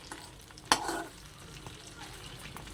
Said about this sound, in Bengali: এখন এখানে চিংড়িটা ফ্রাই করছি